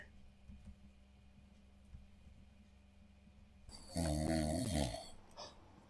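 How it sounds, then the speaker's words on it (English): A video game character in Puh-ranormal Activity lets out one loud, rasping snore near the end, following quiet low background hum and faint ticks. "What if Dashie actually snores like this in real life?"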